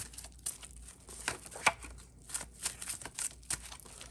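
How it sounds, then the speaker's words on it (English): Cards are shuffled in quick, papery flicks and riffles close up, with irregular soft snaps and no talking. "I'm gonna, shuffle as I do and pull some cards"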